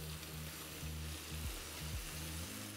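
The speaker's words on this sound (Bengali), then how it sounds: "এই সময় আমি এখানে দিয়ে দিচ্ছি পরিমাণ মতো জল।" Water goes into a frying potato and cauliflower gravy, giving a soft, steady sizzle with a low hum beneath, quiet and continuous with slight swells.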